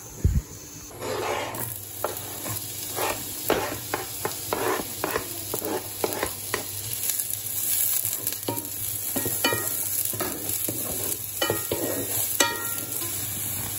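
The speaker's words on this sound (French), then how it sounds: "j'ai fait un peu revenir les oignons" Onions sautéing in a frying pan, a steady close sizzle punctuated by many short scraping stir strokes in irregular rhythm, no voices heard.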